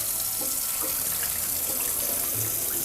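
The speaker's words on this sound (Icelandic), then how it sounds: "Ég byrja bara á því að láta leka á grjónin, svona rétt hreyfum við þeim" Tap water runs steadily over rice in a kitchen sink as the grains are gently rinsed, a continuous close splashing hiss with no talking.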